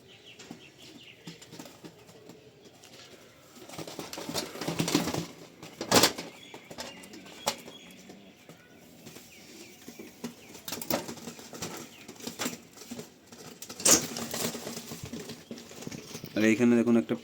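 Pigeons, including a single dark-speckled hen, give soft cooing calls mixed with brief bursts of wing flapping, some close by, while a person talks throughout.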